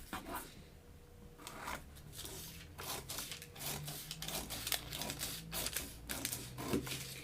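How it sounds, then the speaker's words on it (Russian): Scissors snip through a paper dress pattern to cut out a waist dart, making a quick series of crisp, close cutting and rustling sounds with no talk. "И теперь мы с вами должны вырезать выточку талиевую. Я ее сейчас вырезаю полностью."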